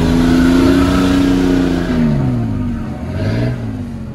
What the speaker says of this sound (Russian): 4 литра, походу бензиновый двигатель.